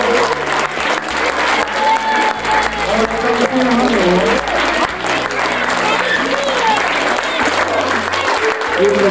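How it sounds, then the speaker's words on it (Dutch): Loud applause from a school crowd for a teacher at the opening of a primary school library, dense steady clapping throughout with children's voices and cheers mixed in. "En eigenlijk vind ik dat we daar een heel hard applaus moeten geven voor juffrouw Stilvia."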